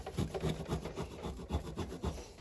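Someone rubs the finish off a small metal Hot Wheels toy car by hand, making close, rhythmic scraping strokes that repeat several times a second.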